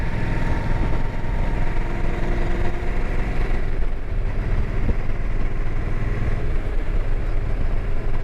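An old motorcycle engine drones steadily while riding, a loud continuous low rumble with road and wind noise and no pauses.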